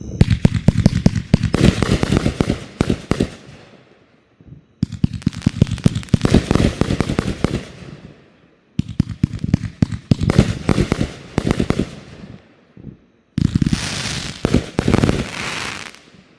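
Four volleys of a Carnivore cake from No Name Fireworks go off in a backyard show. Each is a loud, rapid string of booming reports and crackles, with brief gaps between volleys.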